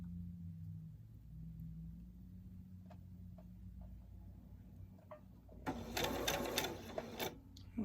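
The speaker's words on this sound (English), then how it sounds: "Okay, and now I'm going to start sewing." A sewing machine starts stitching the seam of a two-colour ribbon tutu, faint motor hum and ticks at first, then a louder rapid run of stitching near the end.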